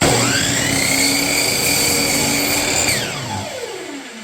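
Miter saw cutting window trim wood, a loud, steady high whine of the spinning blade through the cut, then spinning down as the motor winds off near the end.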